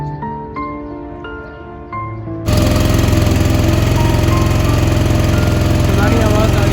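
A boat engine chugs as the boat departs toward Assi Ghat in Varanasi in the morning. Faint rhythmic tones give way to a loud, close, steady mechanical chugging that continues to the end.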